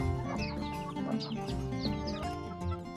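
Local Nubu Songo chickens and chicks cluck and cheep in a farmyard, a busy overlapping chorus of short calls and chirps, close and moderately loud, with no talk.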